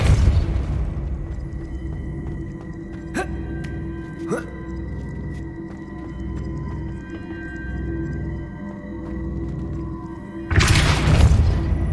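A Depulso spell blast in Hogwarts Legacy on PS5: a low rumbling game ambience with a couple of sharp hits, then a sudden loud, broadband burst near the end.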